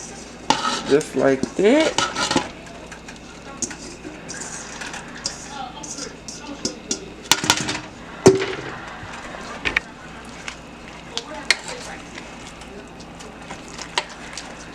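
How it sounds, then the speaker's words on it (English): A utensil stirs melting cheese into a pot of mac and cheese, with clinks and scrapes against the pan in bursts, loudest early, followed by quieter stirring while a person talks briefly. "you want to stir until it's melted"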